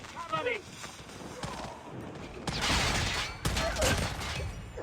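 Call of Duty Mobile gunfire rattles in repeated bursts, growing louder and denser partway through, with a voice speaking over the shots.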